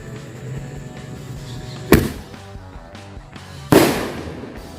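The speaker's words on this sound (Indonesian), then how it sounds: "selanjutnya kita nyalakan mercon bola launcher" Two loud, sharp blasts from a ball firecracker fired from a launcher go off close by outdoors, about two seconds apart, each with a short rumbling tail over low background noise.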